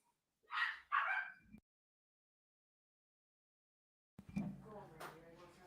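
Small dogs, one of them a chihuahua, let out two quick high yapping barks nearby, then after a long silence a voice speaks over faint background noise.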